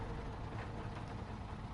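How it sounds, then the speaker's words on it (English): A truck engine idles in the SnowRunner video game, a steady low rumble that sits close and alone for the whole stretch without change in level. "Turn this engine off already."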